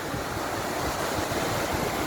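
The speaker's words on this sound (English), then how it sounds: "as for now it's really rough. See the waves." Rough ocean surf breaking on the beach at Negril, Jamaica, a loud continuous wash of crashing waves mixed with wind buffeting the microphone, with no voices.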